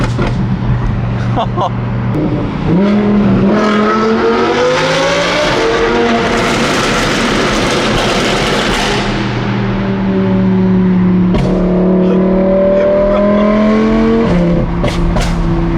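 A loud Audi R8 engine with a tuned exhaust revs and roars in a tunnel, echoing, with crackling exhaust pops throughout and voices talking over the noise.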